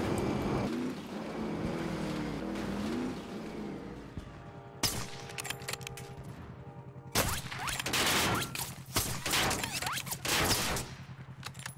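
Sniper rifle shots ring out in a first-person shooter game, several sharp cracks spaced seconds apart over a constant engine drone and game noise, with bursts of distant gunfire later on.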